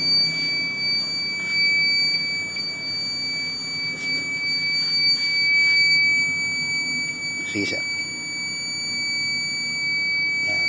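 Steady electronic alarm tones from a GPS tracker alarm with hazard lights on a Yamaha R3 motorcycle, continuous high-pitched beeping running throughout, with someone speaking briefly over it.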